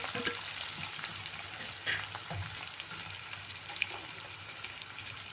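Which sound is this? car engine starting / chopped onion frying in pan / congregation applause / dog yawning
chopped onion frying in pan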